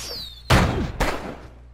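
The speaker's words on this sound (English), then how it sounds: "I like these firecrackers." Firecrackers in the video game Bully: two sharp, loud bangs about half a second apart, each with a short crackling tail.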